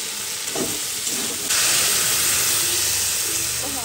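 Green chilies and crushed ginger hit the hot oil of a white potato curry with pepper, setting off a steady loud sizzle that jumps in strength partway through and keeps frying evenly.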